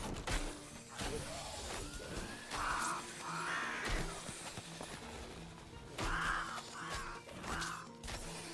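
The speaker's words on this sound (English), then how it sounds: "Definitely need that murder of crows right about now." In the action game Darkhaven, a murder of crows skill sends out repeated harsh cawing bursts that arrive in clusters among game sound effects and mechanical clatter, fairly faint overall.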